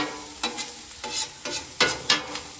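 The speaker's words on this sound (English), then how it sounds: "Now it's just about incorporating the vegetables and the meat together, kind of mixing those flavors." Vegetables and chorizo stirred on a Weber gas grill griddle insert, a spatula scraping in several quick separate strokes over a soft steady sizzle, close up with no talking.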